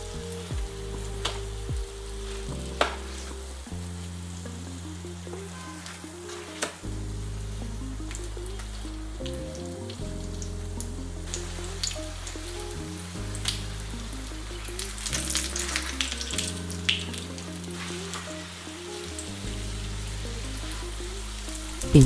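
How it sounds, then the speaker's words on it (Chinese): A scallion pancake fries in oil in a pan with a steady crackling sizzle, heard under a melodic music track that plays throughout. "中途可以利用锅中多余的油浇灌中间的饼皮，加速成熟。"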